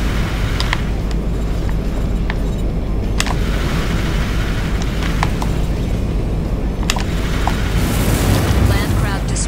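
In the mech game Armored Core: For Answer, a land craft blows up with a deep rumbling boom amid continuous battle noise and sharp impacts, while someone talks over it.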